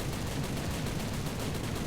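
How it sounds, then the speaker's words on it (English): Machine guns of an A6M2 Reisen fighter in War Thunder rattle in one continuous, dense burst that stays steady and fairly loud for the whole stretch, with no voices. "the Japanese machine guns often feel like pop guns"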